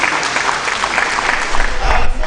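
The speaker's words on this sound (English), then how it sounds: "we need to give ourselves another round of applause. We need to clap ourselves." Lecture audience applauding at a public lecture and faculty law clinic opening, a dense steady wash of many hands clapping that swells slightly near the end, with some voices mixed in.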